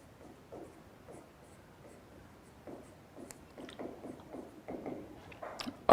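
Chalk or marker writing a lecture title on a board in a classroom: soft, irregular scratching strokes, faint at first and growing busier toward the end, with no talking.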